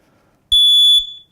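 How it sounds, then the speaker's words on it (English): A single loud, high-pitched electronic beep from a smoke alarm, lasting about half a second, then quiet. "You should push the little test button each month and it'll beep at you."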